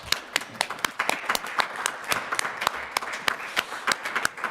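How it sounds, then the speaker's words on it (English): Scattered audience applause at a school committee meeting, a modest crowd clapping with sharp, uneven individual claps at moderate volume for a few seconds. "Now you may applaud."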